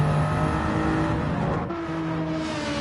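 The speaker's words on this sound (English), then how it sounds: "Hear the tyres squeal." Touring cars racing downhill in a close pack during a DTCC race, with steady loud engine drone and a drawn-out tonal tyre squeal that runs continuously through the short stretch.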